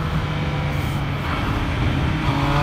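A Triumph Speed Triple RS three-cylinder motorcycle, a 2018 model, accelerates out of a corner on a track, giving a steady loud engine roar with wind noise and no pause.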